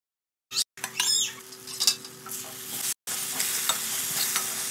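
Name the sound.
brinjal pieces frying in a pan for fish curry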